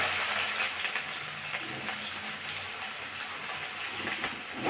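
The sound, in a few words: onions frying in hot oil in a pan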